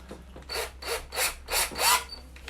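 A rhythmic rasping rub repeats about five times in quick back-and-forth strokes as an engine valve from a 1950 MG is lapped against its seat with a drill, metal grinding on metal, close and fairly quiet.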